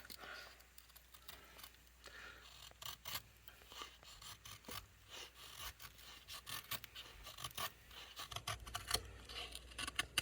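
A Bark River Bravo 1 LT knife in Magna-Cut steel shaves tight feather sticks from wood, with soft, steady rasping strokes repeating close by, quiet, with no talking.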